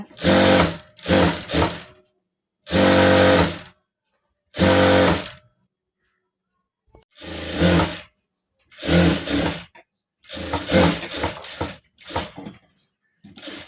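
A sewing machine stitches the back neck of a bridal silk saree blouse in a series of short bursts of whirring, separated by silent pauses, close and loud with no voices.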